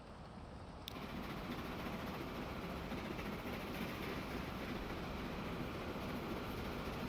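A train rolls steadily along the track in the Transport Fever 2 simulation game, a continuous broadband rumble that steps up in loudness about a second in and holds unbroken with no talk.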